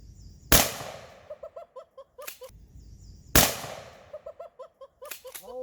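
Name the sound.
shotgun buckshot blasting a laptop hard drive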